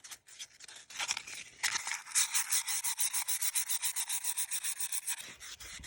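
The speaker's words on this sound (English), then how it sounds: "I'll give it a light final sanding. This is 220." 220-grit sandpaper rubbing across a wooden bowl, a brief scratch first, then fast, even back-and-forth strokes in a steady rhythm, close up and alone.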